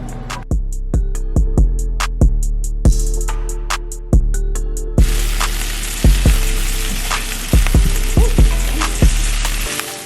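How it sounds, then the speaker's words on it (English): Onions and chorizo sauteing in a pan. A steady sizzle fills the second half beneath a loud rhythmic music track with regular beats. "Now we're gonna go ahead and add the onions and start to saute those for about a minute until they're translucent."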